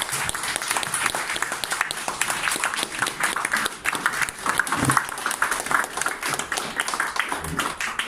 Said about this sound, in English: Let's give her a warm applause.